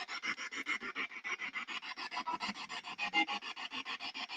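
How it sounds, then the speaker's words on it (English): A dog pants rapidly and rhythmically up close, a steady run of raspy huffing breaths, about seven per second, with no talking. "My dog just freaked me out. It went, ugh."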